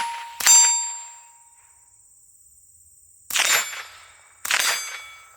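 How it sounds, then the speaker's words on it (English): A Ruger 10/22 rifle fires three sharp, separate shots: one early, then two close together near the end. Each crack leaves a bright metallic ring that fades slowly, with quiet gaps between shots and no talking. "let's load up some mags and fire the first shots"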